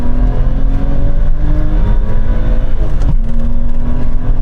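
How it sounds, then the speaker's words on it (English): Several BMW M5 generations race side by side from a rolling start at about 30 mph in second gear, their engines roaring loudly and steadily under hard acceleration, with gear-change dips and no voices. "Now we're going to have a rolling race from around 30 miles an hour and we're going to do it in second gear."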